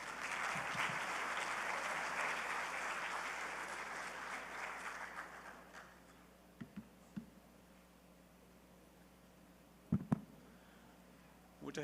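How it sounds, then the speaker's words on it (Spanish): Warm audience applause welcomes a speaker at a water governance forum, steady and full for several seconds before tapering off, followed by a few scattered faint clicks and knocks in a quiet room. "Los recibimos con un fuerte aplauso."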